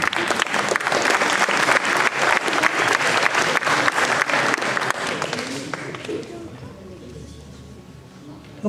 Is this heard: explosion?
no